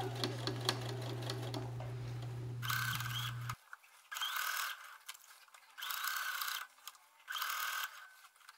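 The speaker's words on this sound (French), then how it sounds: "On réalise une couture à 1 cm tout autour du bas de la manche." A sewing machine runs a seam around a jacket sleeve hem in short bursts, first one long steady run, then three quick separate stitching spurts with pauses between, close and clear with no talking.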